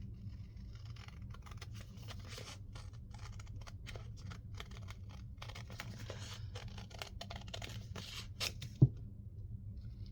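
Scissors cutting around a paper pocket tag, a steady run of soft crisp snips and paper scratches with a few louder clicks near the end, close and quiet, with no talking.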